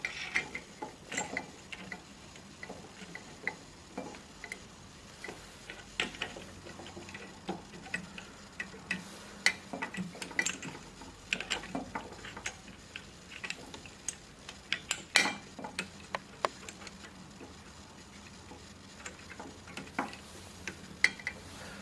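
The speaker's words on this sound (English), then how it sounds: "Doing up the screws, it's important that you tighten the screws equally" Screws are tightened on the heater flange of a Bibby W4000 water still boiler, with close, irregular clicking and ratcheting taps over a quiet background and no speech.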